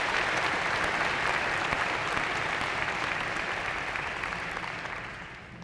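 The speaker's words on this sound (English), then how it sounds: "round of applause for them." An audience at a spring 2013 graduation convocation breaks into sustained, dense applause that holds steady for several seconds and then begins to fade at the end.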